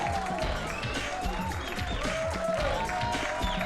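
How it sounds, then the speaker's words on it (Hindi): A crowd at a party for a drink's product launch breaks into sustained applause. Dense clapping is mixed with cheers and overlapping voices throughout. "तो लीजिए उनकी शान में हो जाए जोरदार तालियां"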